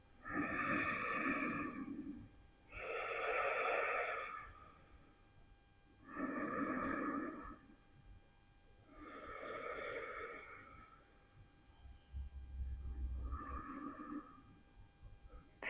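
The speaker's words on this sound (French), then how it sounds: "On va prendre encore 3 profondes respirations." Slow deep breaths during a pawanmuktasana yoga pose, five long breathy inhales and exhales in a steady rhythm, close and fairly faint, with a soft low rumble near the end.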